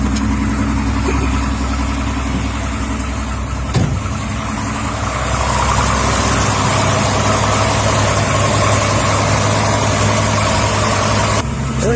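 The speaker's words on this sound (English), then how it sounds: "Get the gas. She'll settle right into her idle." A classic car engine settles into a steady idle, a continuous low rumble held close and loud throughout with a brief sharper knock partway in.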